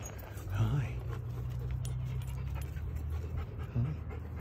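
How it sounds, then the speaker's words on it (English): Puppies at a park pant steadily and close by, with a brief whimpering yelp now and then. People talk over the panting. "Look at all the puppies."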